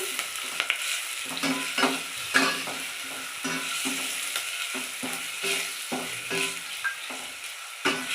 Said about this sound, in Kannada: ಖಾರ ಕೂಡ ಎಣ್ಣೆಯಲ್ಲೇ ಸ್ವಲ್ಪ ಫ್ರೈ ಆಗಬೇಕು, ಅದಕ್ಕೆ ಹಾಕ್ತಾಯಿದ್ದೀನಿ